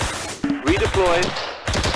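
Loud bursts of machine-gun fire rattle through a Close Combat battle, with voices shouting between and over the shots.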